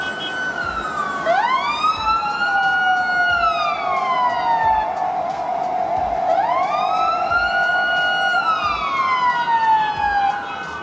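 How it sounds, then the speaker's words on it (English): An ambulance siren in Germany wails in long rising and falling sweeps, loud and close, repeating over steady road traffic. "Once the siren goes off, the cars instantly move aside"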